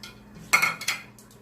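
Garam masala and kasuri methi being stirred into chana dal in a pot, heard as a few quick metallic clanks and scrapes of a spoon against the pot, close and fairly loud, with no talking.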